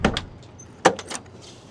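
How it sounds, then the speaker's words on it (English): The door of a 1969 Chevrolet Camaro SS opens with a few close metallic clunks and latch clicks, a sharp knock near the middle followed by softer rattles, alone with no talk. "Doors open up very well."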